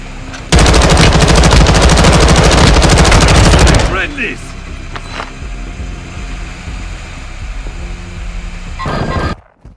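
Loud, dense automatic gunfire from Call of Duty Warzone 2 rattles continuously for a few seconds, then gives way to quieter game ambience with scattered distant shots and faint voices before cutting out.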